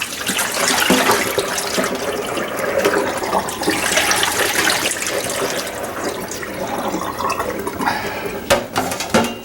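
Water runs steadily into a container, splashing and gurgling up close, with a few clunks near the end.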